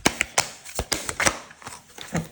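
Tarot cards are laid out and shuffled in a quick run of crisp, close card flicks and slaps with uneven rhythm, with no voice over them.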